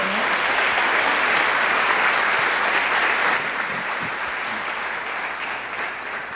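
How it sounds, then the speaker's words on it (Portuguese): A church congregation applauds during a Portuguese-language worship service, producing steady, dense clapping that fills the room for several seconds and eases slightly toward the end. "Você pode aplaudir ao Senhor por isso?"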